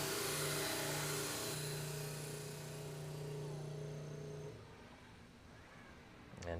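An OB7 collaborative robot deburs the threads of a machined part with a spinning tool, giving a loud, steady motor whine over a grinding hiss for about four seconds before it drops away to a quieter background hum.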